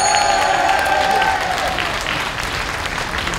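An audience at a jubilee concert of a folk dance ensemble in Berlin claps in sustained, dense applause, heard steadily from close to the crowd for the whole stretch.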